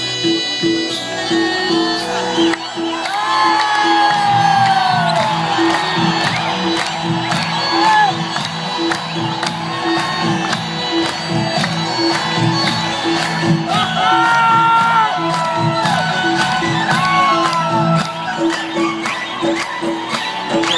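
A live concert crowd in Qatar whoops, cheers and shouts loudly and continuously, with possible scattered clapping, over amplified music and a singing voice.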